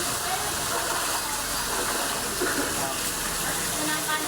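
Floodwater rushes along a street in Manila, a loud continuous broadband roar of gushing water that stays steady and close throughout.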